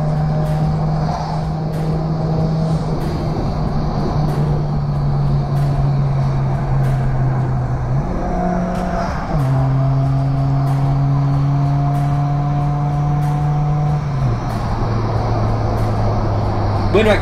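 Engine note from a car, apparently a Corsa, held at speed on a mountain road, shifting through gears with steady pitch steps over about seventeen seconds.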